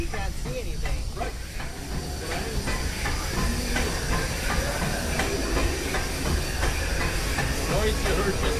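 A steam locomotive's injector feeds water into the boiler on the Disneyland Railroad, giving a steady loud hiss under rhythmic clickety-clack of wheels on rail joints while people talk over the noise.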